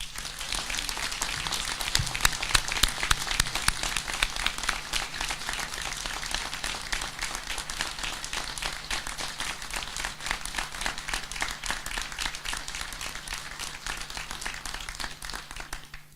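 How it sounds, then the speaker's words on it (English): Sustained audience applause at a university graduation ceremony, a steady dense wash of clapping from a large crowd that holds evenly for about sixteen seconds with a few louder claps near the start. "Can I ask for a huge round of applause to our graduates?"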